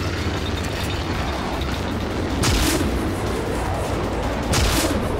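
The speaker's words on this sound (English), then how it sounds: "So let's give the railgun slugs a try." Railgun slugs firing in the shooter game Rage, two heavy booming blasts spaced about two seconds apart over a loud, continuous rumbling game background.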